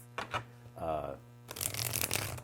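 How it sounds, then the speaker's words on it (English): Rosewood tarot deck with a matte finish being shuffled up close, a soft riffling flutter of cards in quick bursts beside a brief spoken voice. "just kind of show you the shuffle. So it really shuffles quite nice."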